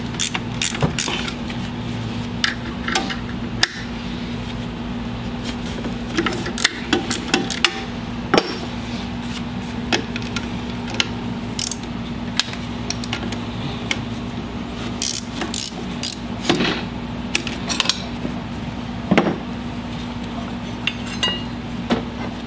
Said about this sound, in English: You have to loosen all the bolts up, the two up front, which are 9/16, and loosen the adjustment bolt here, which is a half inch.